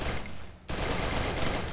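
Gunfire in an online 4v4 shooter match cuts in sharply after a brief lull, a loud burst of rapid shots that continues in a dense volley to the end.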